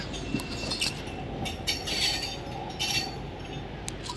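A Narasapur–Machilipatnam link MEMU train runs steadily on the rails, a continuous rumble with light clinks and faint wheel squeal rising and falling throughout.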